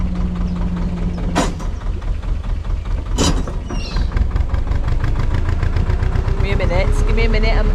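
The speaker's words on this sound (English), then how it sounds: "there's a boat coming." A loud, chugging narrowboat engine runs steadily close by on a canal near Nantwich, England, its rhythmic thud continuous throughout, with a couple of sharp clanks cutting through.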